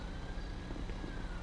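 A police siren wails faintly in a video game, a thin, distant tone that sits low under a steady wash of background noise.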